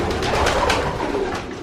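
Pigeons cooing in a breeding loft full of young birds, breeders and cocks, a dense, close chorus of soft overlapping coos with rustling throughout.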